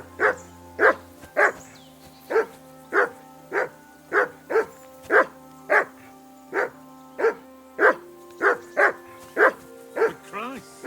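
A dog in Kingdom Come: Deliverance II barks loudly and close, about twenty sharp barks at an even rhythm over low ambient tones, with a speaking voice heard briefly.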